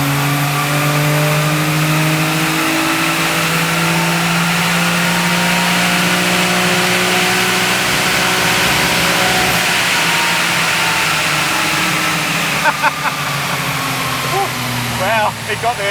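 A Daihatsu Mira car engine revs on a dyno run, a loud continuous drone climbing slowly and steadily in pitch, with brief clatter near the end.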